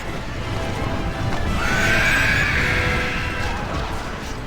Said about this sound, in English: you can see Theoden riding up in front there on his white horse